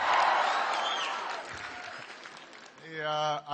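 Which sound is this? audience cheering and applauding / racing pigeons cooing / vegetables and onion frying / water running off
audience cheering and applauding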